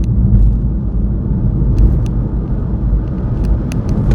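BMW i3 with range extender accelerating hard from about 30, a steady low rumble and road roar heard from inside the cabin, loud and even with faint ticks above it and no talking.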